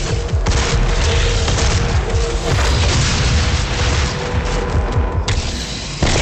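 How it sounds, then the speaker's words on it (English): Plasma gun fire in the shooter game Doom: loud, rapid bursts of energy shots and booming impacts pour out continuously, dense and close, with deep rumbling blasts underneath throughout. "Plasma gun."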